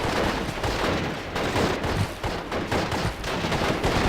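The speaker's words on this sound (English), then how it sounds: "They're firing." Rapid, dense gunfire from the WWII strategy game Steel Division Normandy 44 crackles in continuous bursts, mixed with distant artillery-like thuds, with no voices over it.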